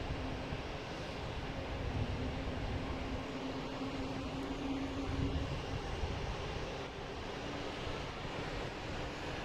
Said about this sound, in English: we got a JetBlue coming in from Punta Cana, an A321